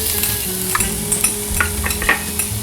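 Garlic and onion sizzling in oil in a pan, a loud continuous crackle with repeated scraping strokes of a utensil stirring them, close and without speech.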